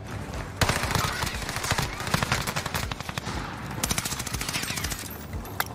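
Rapid automatic gunfire from the video game Warzone rattles in dense, continuous bursts across the whole stretch, loud and close, with brief gaps between volleys.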